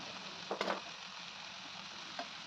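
Cut cabbage tumbles into a pan of sautéing chana dal, steady close sizzling with a few louder rustling bursts as the pieces land and settle.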